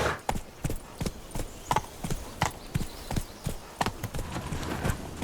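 Game horse hooves in The Witcher 3 clop along in a steady, even trotting rhythm, each hoofbeat close and crisp.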